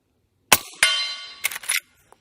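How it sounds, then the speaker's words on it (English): A suppressed Henry lever-action rifle firing .38 Special rounds gives a few short, sharp cracks with a metallic ring, spaced closely with quiet gaps between. "Let's do some shooting and you're going to see how quiet this setup is with the suppressor"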